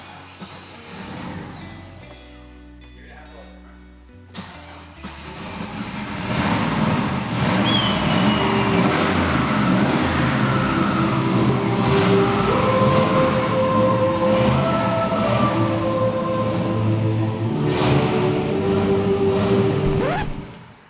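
After a garage flood, a car engine with electrical grounding trouble starts up after a quieter stretch, then runs loud and steady for the rest of the clip with a constant rumbling drone.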